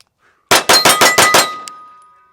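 A Staccato HD C3.6 compact pistol fires six rapid shots on a shooting range, sharp evenly spaced cracks close by, followed by a faint ringing tail as the string ends.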